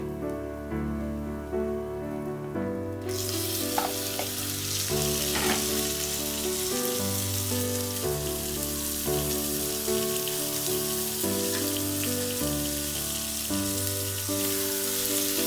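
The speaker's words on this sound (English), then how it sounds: "Now we'll add mutton to it." Mutton frying with onions on high flame for a jungle mutton curry, a loud, continuous sizzle that erupts as the meat goes in and stays steady over a low background drone.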